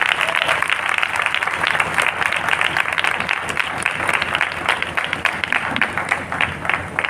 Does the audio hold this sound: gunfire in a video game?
no